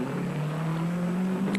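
A race car engine at the 1987 Bathurst 1000 fires up and pulls away from a quick pit stop, a steady droning motor note held close and loud for the whole moment, with no talk over it.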